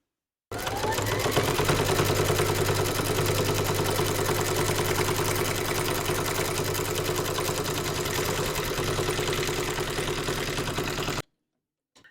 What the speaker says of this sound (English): pop our hoop into our machine and stitch round number 7